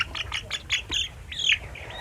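Broiler chickens kept on rice-husk litter give a quick run of sharp squawking clucks, several short calls followed by a longer raspy one, close by with faint background noise.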